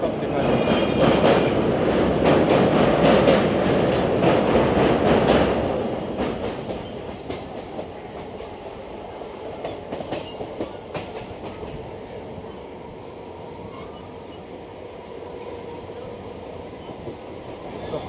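A Kolkata local train pulls out of a station, starting with a loud rumbling roar and rattling wheels, then easing into a softer rolling clatter with intermittent clicks as it moves away, a voice faintly present.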